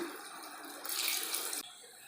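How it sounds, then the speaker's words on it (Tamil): Water poured into a pot of chicken biryani during cooking, a brief splashing rush of about a second standing out over a faint kitchen background hiss. "தண்ணி ஊற்றிடலாம்"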